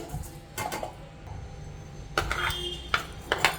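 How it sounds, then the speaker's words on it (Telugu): A spoon scrapes cooked food from a plate into a mixing bowl, a few scattered clinks and taps of metal on dishware, close and fairly quiet with pauses between. "ఈ విధంగా స్పూన్తో తీసుకొని బౌల్లో వేయాలి."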